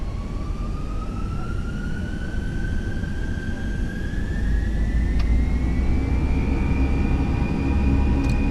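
A Scandinavian Airlines airliner's jet engines spooling up for takeoff, heard from inside as a steady rumble with a whine that climbs slowly in pitch, the roar swelling partway through.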